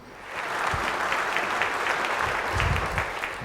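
A studio audience at a televised religious quiz competition's grand finale bursts into applause, a dense, steady roll of many hands clapping that fades in and continues to the end with no talk.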